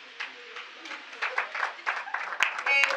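Audience applause at a certificate presentation after a capacity-building workshop: a roomful of people clapping steadily for about three seconds, swelling toward the end, with a voice speaking over it.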